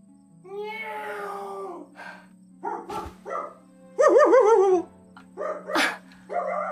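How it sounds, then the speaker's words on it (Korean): Several excited dogs bark, yip and whine close by in irregular bursts, some drawn out into wailing moans, over a steady low hum. "강아지 키워?"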